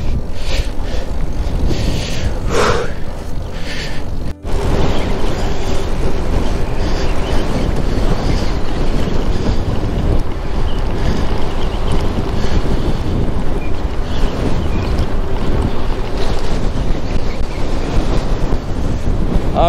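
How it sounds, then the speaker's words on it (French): Strong wind buffets the microphone during a hillside walk, a loud roaring rumble that gusts continuously with a brief dropout near the start and no one speaking. "Ah, le vent!"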